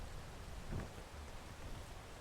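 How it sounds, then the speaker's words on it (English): Steady soft rain hiss in the climbing game PEAK, a continuous wash of falling drops with a brief low rumble near the start, no voices. "This rain is my punishment."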